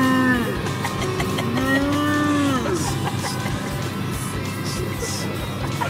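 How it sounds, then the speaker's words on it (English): Cattle in a field moo in long, drawn-out calls, two loud nearby lows with falling pitch, over steady outdoor background noise. "So many cows."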